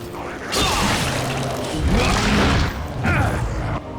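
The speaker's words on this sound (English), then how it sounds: "instead of throwing another hand grenade, I'm gonna throw a flash grenade" A flash grenade going off in Resident Evil 4, with a loud burst and a heavy, booming spread of noise. Mechanical clatter and thuds follow and swell again toward the end.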